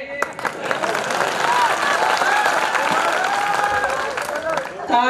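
A poetry recital audience applauds at a Hindi kavi sammelan, with dense, sustained clapping from a crowd that holds steady for the whole stretch and a few louder claps standing out.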